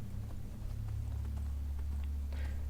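Horse hooves clip-clop at a steady walking pace in the video game Skyrim, a continuous rhythmic clatter over a low droning background.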